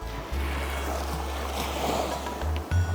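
Sea waves wash steadily onto the beach at the Devbag confluence point on the Konkan coast, with a continuous surf roar and a low rumbling undertone. No voices are heard.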